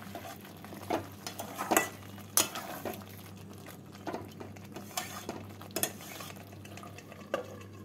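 Hariyali chicken masala being stirred in a pot, giving a series of scattered scraping and clinking spoon-against-metal sounds over a faint steady background hum, with no talking.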